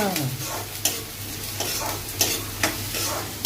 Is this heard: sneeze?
no